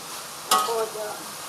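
Red anchovies are stirred with crystal sugar in a wok, a short burst of scraping and sizzling that rises suddenly, then settles into a faint steady fry.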